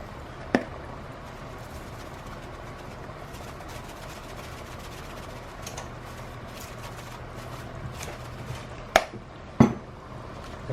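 A pot of baked ziti sauce with dry basil is stirred, giving a few sharp metallic clinks near the start and end over a steady, quiet low background hum, with no talking.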